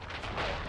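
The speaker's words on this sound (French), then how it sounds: "ils me jettent des grenades que sur moi" A grenade explosion in the WWI shooter Verdun, a short, muffled, rumbling blast that fills the moment at moderate level.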